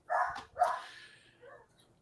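A dog barks from another room during a sports talk show, a few muffled, moderately loud barks in quick succession with a fainter one trailing after.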